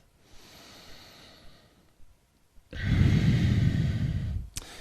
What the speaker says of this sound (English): And just take 2 more breaths here.